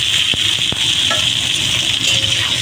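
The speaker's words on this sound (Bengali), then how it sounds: "আলু ও পটলের সঙ্গে টমেটোটা একটু ভেজে নেব।" Potato, pointed gourd and chopped tomato fry in a pan with a steady, close hissing sizzle, broken by a few sharp stirring clicks.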